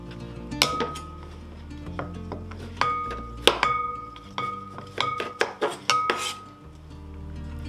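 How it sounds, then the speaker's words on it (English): Potato wedges are stirred in a pan, giving a run of sharp metallic clinks and scrapes with irregular spacing that cluster more densely toward the end, close and moderately loud, with no talk. "Alrighty, buddy, you ready to stir these in?"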